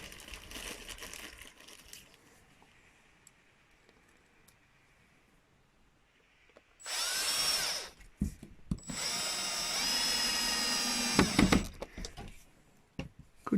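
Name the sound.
power screwdriver fixing caravan window trim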